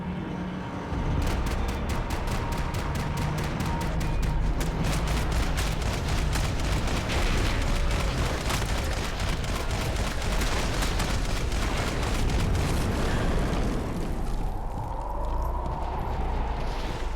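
Sustained gunfire from the video game Max Payne 3, a dense, continuous barrage of rapid shots and impacts that carries on loudly for most of the stretch before thinning out near the end.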